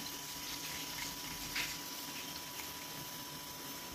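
Water pours and splashes over rice as it is rinsed in a pot, a faint, steady trickle with one brief louder splash partway through and no voices.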